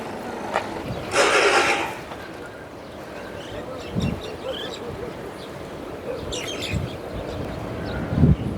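Outdoors among trees, birds chirp on and off while a horse's snort and occasional hoof sounds come through, mostly moderate to faint against a quiet background.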